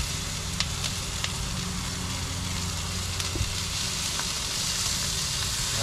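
Food sizzling steadily in an oiled pan on a stove in a camper van, a continuous close hiss with small crackles and pops, no voices.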